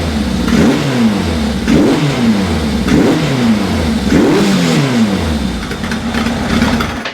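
An engine running at tick over with only about three of its cylinders firing properly, giving a loud, continuous, uneven idle with recurring lumpy surges and no voices over it.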